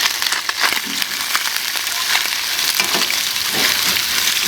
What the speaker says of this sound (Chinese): 让它每面都煎到一点，吃起来才不会腥。